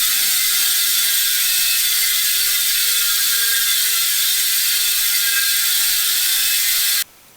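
A Hope Pro rear hub's freehub pawls ratcheting as the wheel spins freely, a loud, dense, continuous buzzing click heard close up and alone, cutting off abruptly near the end.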